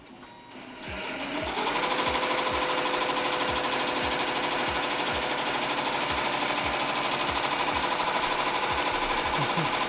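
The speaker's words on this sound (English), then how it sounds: "And the moment I push start, it starts embroidering again." An embroidery machine restarts and stitches onto a T-shirt, ramping up to a loud, steady mechanical hum with a fast repeating needle beat.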